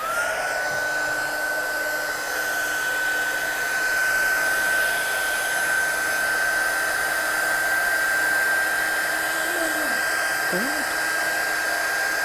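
A dryer blows steadily on a watercolour background, with a constant loud whirring hum and high motor whine running unbroken throughout.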